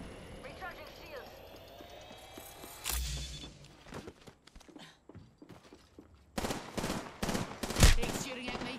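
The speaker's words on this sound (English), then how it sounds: "He's shooting at me." Gunfire in a shooter video game, with rapid bursts and single shots crackling over a busy mix of game effects and a talking voice, growing denser and louder toward the end.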